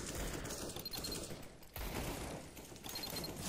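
Rapid automatic gunfire rattles in CS:GO in two sustained bursts separated by a brief pause, dense and loud, with no speech over it.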